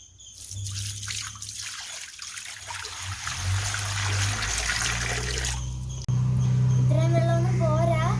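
Water poured into a guppy fish tank, a steady trickling and splashing stream with a low hum underneath, shifting to a fuller gurgle near the end; a voice is briefly heard.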